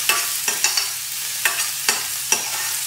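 Finely chopped onion and cumin seeds fry in a teaspoon of sesame oil in a pan, giving a steady close sizzle broken by about six sharp scrapes of a spatula stirring at irregular intervals.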